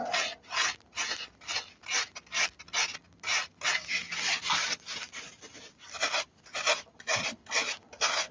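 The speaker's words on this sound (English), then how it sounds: "get some wax and start carving" Rhythmic scraping strokes of a carving tool against a small piece of wax being shaped into a ring, steady rasping repeated about twice per second, close and alone.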